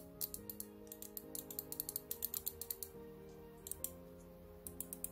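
Gamepower Sendo RGB gaming mouse buttons clicked in quick irregular bursts, sharp crisp switch clicks close by, layered over steady background music.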